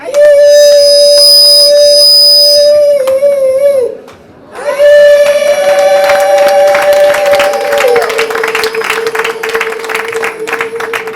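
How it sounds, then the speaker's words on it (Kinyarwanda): Women ululate loudly in celebration, with long sustained trilling calls that break off briefly and then return as a fuller chorus with clapping and cheering from a crowd. "Reka dusabe ko bavuze impundu ababyeyi hariya."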